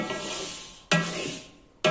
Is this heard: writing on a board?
no